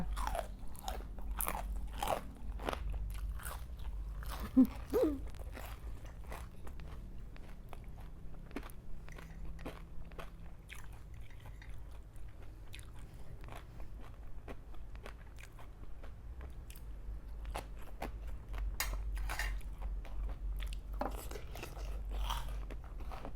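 Close, crisp crunching and chewing of Thai pickled shrimp salad in soy sauce, irregular bites and mastication sounds continuing throughout at moderate loudness with a low rumble beneath.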